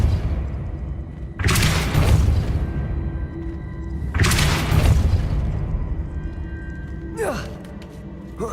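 Depulso spell cast in the video game Hogwarts Legacy: three loud, booming bursts roughly three seconds apart, each a broad blast that fades over about a second, the last one sharper and briefer.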